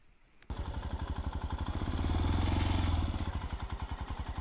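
Royal Enfield Himalayan motorcycle riding on an island road in the Faroe Islands, its engine thumping in a steady rapid pulse that swells briefly louder mid-ride before easing back, close and continuous with no talk.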